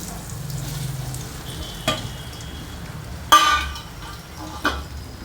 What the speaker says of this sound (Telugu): ఇప్పుడు ఆవాలు చిట్టుపట్టుమంటున్నాయి కదా, ఈ దశలో మనం ముక్కలన్నీ వేసేసుకోవాలన్నమాట.